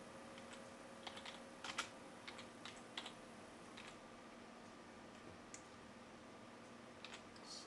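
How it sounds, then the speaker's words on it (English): Quiet, irregular typing on a computer keyboard while entering items into estimating software, soft clicking keystrokes in short bursts with pauses over a steady background hum. "So I can type in my new item,"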